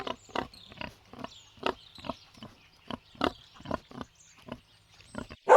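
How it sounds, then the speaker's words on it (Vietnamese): A wild boar gives a steady run of clipped, gruff grunts spaced roughly every half second, close by, ending in a sudden louder burst, with no talking. "Lợn rừng."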